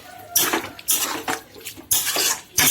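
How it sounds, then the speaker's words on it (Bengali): Water poured into a cooking pan of spiced mixture for a potol and soybean curry, followed by stirring, in several loud metallic scraping and splashing bursts. "আর দেবো আমি মশলা ধোয়া জল"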